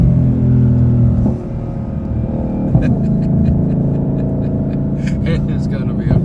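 A 2020 Shelby GT500 downshifting and accelerating, a loud low engine rumble with a drop in pitch and then a rising, revving pull, heard from inside the car under talk.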